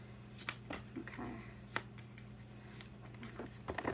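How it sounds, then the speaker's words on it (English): Tarot cards being shuffled by hand, heard as a series of short, crisp riffling bursts over a steady low hum in a quiet room. "Gotta shuffle one more time."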